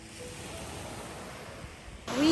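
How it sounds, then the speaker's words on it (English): Steady wash of surf rolling onto a hotel beach in Antalya, a constant broad roar that swells louder in the final moment. "We are here at the beach with Stella."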